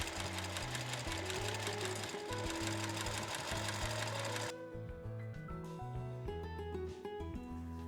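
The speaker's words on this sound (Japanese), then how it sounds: "今回は重機の SL700EX 職業用ミシンで製作していきます。" A Juki SL700EX professional sewing machine with a size 14 needle and 3.0 stitch length runs a fast, steady stitch along folded fabric for a pet hammock, then continues more lightly after a pause.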